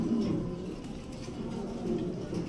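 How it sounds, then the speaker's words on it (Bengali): A pair of Andalusian Mundian pigeons coo softly and repeatedly at close range, low murmuring calls rising and falling with no voices. "প্রথমেই দেখতে পাচ্ছেন একজোড়া অ্যান্ডালুজিয়ান মুন্ডিয়ান"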